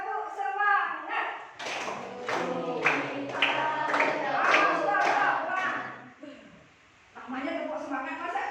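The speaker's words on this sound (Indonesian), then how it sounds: "Ayo kita bertepuk tangan" Group of people doing a rhythmic ice-breaking clap, sharp patterned hand claps in bursts with a voice chanting along over them, pausing briefly before resuming.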